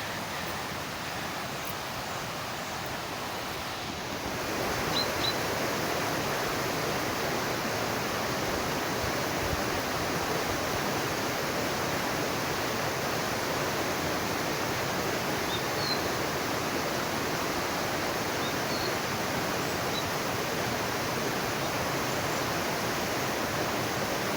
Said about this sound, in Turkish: Şimdi gördüğünüz gibi burada Fol Deresi akıyor.